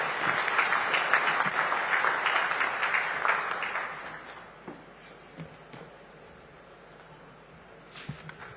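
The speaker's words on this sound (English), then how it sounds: "Another round of applause, ladies and gentlemen" Applause from a summit audience after a keynote address, dense and loud for about four seconds before thinning to scattered claps and fading out.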